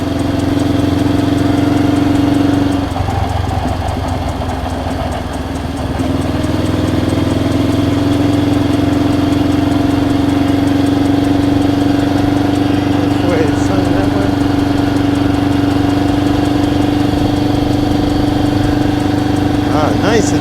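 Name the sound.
Honda CL77 Scrambler motorcycle engine idling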